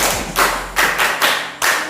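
A class of students clapping for themselves in rhythmic unison, four or five loud, close, evenly spaced group claps with thumping bursts.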